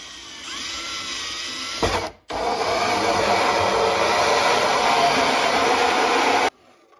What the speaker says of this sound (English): I'm just gonna let the drill do the work.